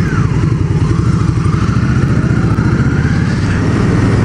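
A 1987 Honda Rebel 250 motorcycle engine running close by, a steady loud rumbling idle with fast even pulses that continues unbroken throughout.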